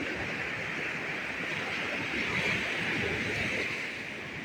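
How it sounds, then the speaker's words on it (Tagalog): Sea waves wash onto the shore at a beach resort in Ternate, Cavite, a broad, continuous roar of surf mixed with wind noise, steady and loud with no voices. "Grabe yung ano, alon."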